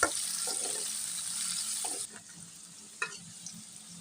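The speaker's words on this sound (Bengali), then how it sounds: "সিম আর বটবটিটা একসাথে বেজে নিচ্ছি" Flat beans and bottboti beans frying in a pan, a steady loud sizzle that drops suddenly halfway, then quieter crackling with a few stirring clinks.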